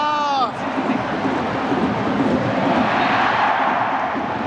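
A football stadium crowd in Korea breaks into a broad, sustained roar after a player falls. A short voice opens the sound before the crowd noise swells and fills the space.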